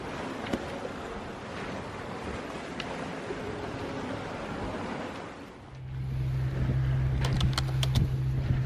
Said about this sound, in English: We just pulled in the jib and started an engine.